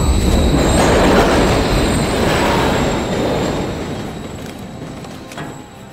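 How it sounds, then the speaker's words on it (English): A video game train in Call of Duty: Modern Warfare 3 rumbles past loudly with squealing wheels and rattling cars, the noise slowly fading as it moves away; no talking. "Another train coming."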